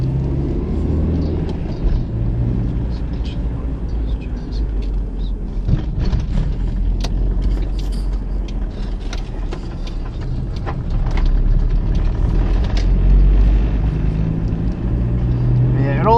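A 1989 Toyota Tarago van on the move, heard from inside the cabin: a steady low engine and road rumble with scattered rattles and clicks, rising slightly in loudness toward the end.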